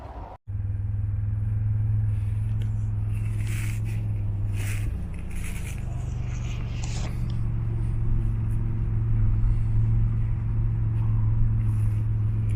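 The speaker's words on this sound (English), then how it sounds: "I'm going to jump in the car." Car moving slowly through King City Cemetery in late fall: a door thunks, then the engine settles into a steady low idle-like hum, shifting pitch briefly as it pulls off, with light tire crunch and faint outdoor sounds.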